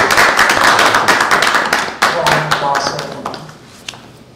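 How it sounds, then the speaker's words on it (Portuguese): An audience at a Brazilian state government event applauds, a busy burst of many hands clapping that thins out toward the end, with a few louder individual claps standing out. "Então merece uma salva de palmas aí."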